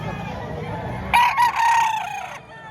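A sweater kelso gamefowl rooster crows once, loud and fairly close, over a low murmuring background at a rooster market in Batangas.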